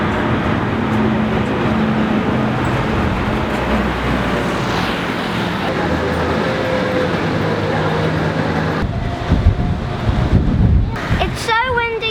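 Strong wind roars and buffets loudly and continuously on a sailing boat off Portofino, a dense rumbling blast that shifts in intensity, with sharper rustling gusts toward the end.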